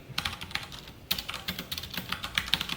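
Java code being typed on a computer keyboard: a steady run of quick, crisp key clicks with a brief pause near the middle, close and clear with no talking.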